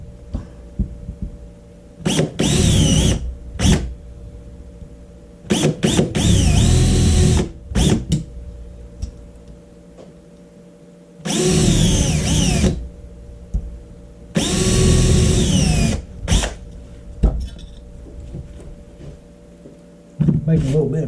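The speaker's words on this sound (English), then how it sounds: "Now I'll just drill these out." A power drill grinds into metal on an air compressor in several loud, close bursts with pauses between, and a person speaks during the quieter gaps.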